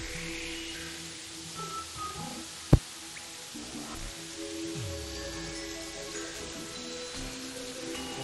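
Steady rain falling in the video game Terraria, a soft continuous patter with one sharp click partway through and faint low game tones underneath, no voices.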